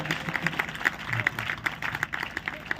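Live audience applause at a Hindi kavi sammelan poetry recitation in Sudamdih, Dhanbad, with scattered claps rising and falling over about three seconds amid crowd murmur.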